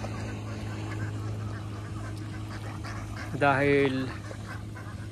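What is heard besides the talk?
domestic ducks quacking as they are moved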